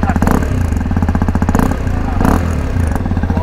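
A Hero Xpulse 210 dirt bike idles close by, its exhaust putting out a steady, loud, rapid thumping pulse with slight uneven lumps in rhythm throughout.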